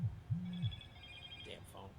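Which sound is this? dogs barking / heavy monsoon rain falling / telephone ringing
telephone ringing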